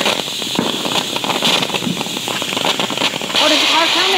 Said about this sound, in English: We're about to shoot fireworks.